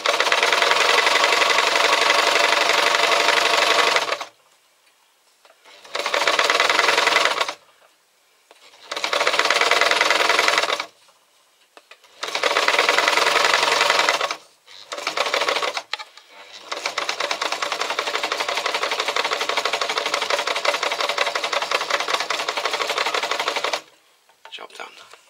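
A sewing machine stitches a simple fabric pouch in loud, steady whirring bursts, stopping and starting several times before one long continuous run near the end.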